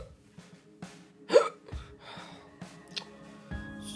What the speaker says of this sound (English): How can he still have the hiccups?